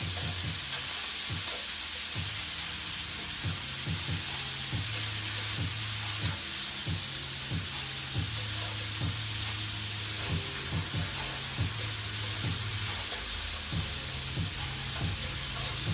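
Pieces for chicken carbonara crisp in oil in a hot pan, giving a steady, loud, close sizzle that hisses throughout with faint intermittent stirring.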